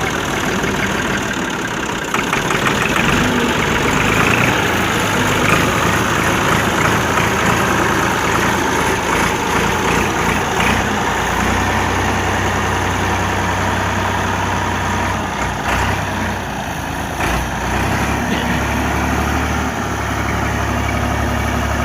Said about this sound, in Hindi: ट्रैक्टर बैक कर रहे हैं, बैक करके प्लेटों को वहाँ खड़ा करना है जी।